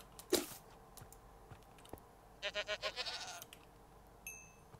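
Goats in the Minecraft video game bleat faintly, with one short bleat early on and then a quick, wavering run of bleats. Soft clicking sounds play in the background.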